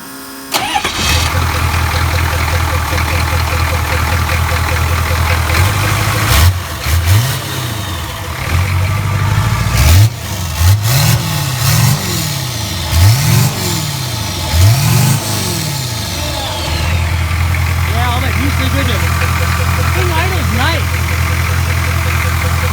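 A 1972 Chevy Nova fitted with a 6.2 liter turbo diesel cranks and fires into a loud, close idle, then revs up and down in a string of rising and falling bursts before settling back to a steady clatter.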